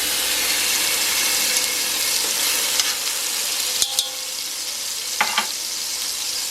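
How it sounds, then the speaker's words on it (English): Minced garlic sizzles and crackles steadily in a quarter cup of hot olive oil in a silver double-bottomed pan on medium-high heat, a constant close hiss broken by a few sharp clinks of a utensil. "So you see we have a 1/4 cup of olive oil that I'm heating on medium high in my favorite silver double bottomed pan here."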